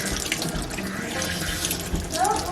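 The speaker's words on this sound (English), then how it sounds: "Sometimes I end up shooting water all over my kitchen," Water sprays and splashes steadily from an Imperial Berkey water filter element being primed at a kitchen sink, a continuous close hiss and spatter that lasts the whole clip.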